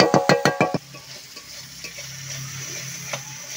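A chorchori with coriander leaves is stirred in a pan, opening with several sharp rhythmic scrapes and knocks of the spatula, then settling into a soft steady sizzle of frying close by.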